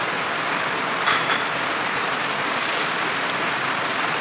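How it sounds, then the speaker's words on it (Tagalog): Steady rain falls outdoors, a continuous even hiss of drops at moderate level with no talking. "Maulan talaga dito araw-araw."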